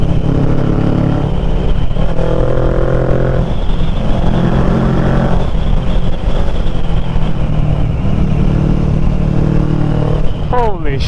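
A Ninja 650 or Vulcan S motorcycle ridden hard through twisty roads near Hawks Nest, New York, holding a loud, steady engine drone close to the microphone with shifting pitch as it revs, and excited voices cutting in over it.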